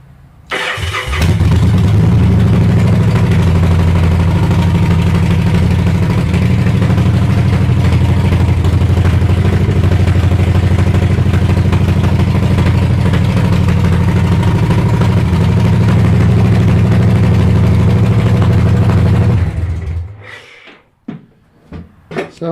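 A Victory motorcycle engine fires up after a jump start and settles into a loud, steady, deep idle close by, then cuts off near the end, leaving a few clunks.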